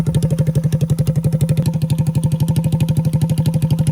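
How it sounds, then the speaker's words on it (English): A small Honda XR engine on a shifter kart runs close by at a steady idle, chugging in an even, rapid rhythm with a light mechanical clatter. "These little XR engines, honestly, are so much better than a clone engine because it just purrs."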